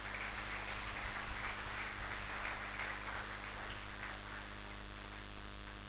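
A church congregation applauds the Lord in a steady, dense wash of clapping that fills the room at moderate volume and holds evenly throughout, with no talking.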